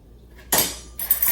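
Spaghetti with spices stirred in a pan, heard as two short, bright metallic scrapes and clinks of a utensil against the pan, close and loud after a near-silent start.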